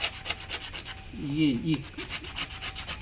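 Sandpaper rubbing across a leather shoe upper to rough it before gluing in a handmade sneaker workshop, a quiet, close scratchy rasping with a brief spoken word.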